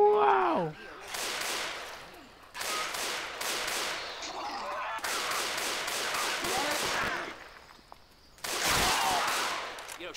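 Left 4 Dead 2 gunfire comes in several sustained bursts of rapid shots, loud and close, separated by short gaps, with voices talking between and over the shooting.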